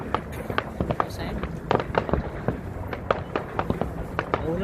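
Fireworks bursting in a Saturday night sky in Australia, a string of sharp cracks and pops at irregular intervals, some distant and some closer, with people talking over them.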